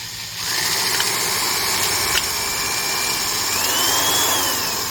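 Porter-Cable 18 gauge electric sheet metal shears cut through a piece of aluminum, a steady close motor whine with a rising tone and brief clicks as the blade chews along the sheet.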